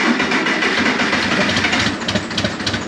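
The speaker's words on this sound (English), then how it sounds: "While that tractor warms up" A farm tractor's engine idling while it warms up, a loud, dense, steady mechanical roar with a rapid chugging pulse, close by and without talk.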